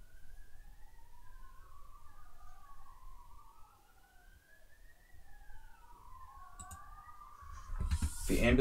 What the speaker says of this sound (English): The ambulances are seriously trolling me.